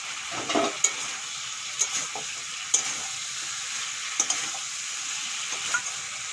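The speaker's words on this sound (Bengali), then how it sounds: "এখন দিয়ে দেবো ভেজে রাখা মাছের মাথা" Fried fish heads go into a pan of cooking pui shak, giving a continuous soft sizzle broken by a few sharp clicks and scrapes of stirring.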